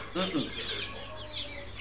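Goliath chickens kept in cages on a farm for fattening cluck and squawk close by, short scattered calls over a constant background hum.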